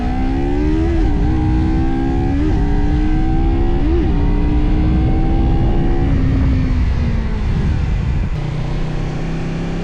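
A 2024 KOVE 250RR motorcycle accelerates hard and close, its engine note climbing steadily through several gear changes before it settles at a lower, steady drone.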